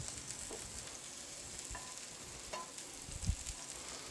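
Scallops sear in a hot pan with a faint, steady sizzle and a few soft clinks and taps of handling; quiet overall with no voices.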